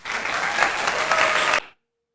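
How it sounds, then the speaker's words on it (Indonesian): Classroom applause from student groups, steady clapping from many hands for about a second and a half before stopping abruptly into silence. "Kita beri aplaus ya untuk kelompok 3 dan juga untuk kelompok 1 yang terus menanggapi ya"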